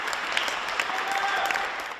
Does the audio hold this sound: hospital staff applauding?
yes